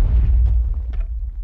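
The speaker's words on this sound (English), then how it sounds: "That's explosion." A deep, rumbling blast in a Minecraft-style survival game, a low boom that starts loud and slowly fades over about a second, with a few small crackles on top.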